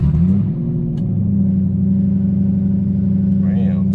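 A car engine with no exhaust fitted idles with a low, steady rumble and a rough, unmuffled tone, holding constant for several seconds.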